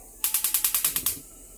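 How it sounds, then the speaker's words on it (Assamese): A gas stove igniter clicking about nine times in a quick, even rhythm, each click sharp and bright, close to the listener, then stopping abruptly over a faint background hum. "এটা মই গ্যাসটো ধৰাই দিম"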